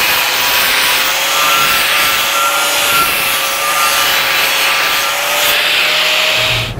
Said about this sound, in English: when I come back with the grinder and just hit it at a 45, those will all just go right away